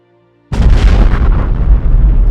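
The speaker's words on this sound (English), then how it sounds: "The combined explosion devastated the German lines in what was at the time the largest ever explosion created by man" A massive, sustained explosive roar is heard, representing the detonation of mines beneath German lines at Messines in 1917, a sudden loud blast that rumbles on for about two seconds with heavy low boom.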